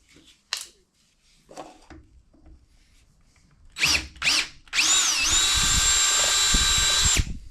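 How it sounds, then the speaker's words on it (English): A few short bursts and rustles lead into an electric drill whining steadily and loudly for a couple of seconds as it bores a 5/16-inch hole. "I'm going to drill a 5/16 hole"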